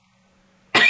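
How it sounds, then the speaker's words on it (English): A single person gives one abrupt, loud cough at the very end after near silence, close to the microphone. "apparently I decided that I needed to cough now"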